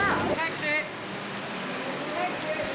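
Steady rain hisses down on a city street at night amid theatre traffic, a dense even wash of falling water with faint voices briefly at the start.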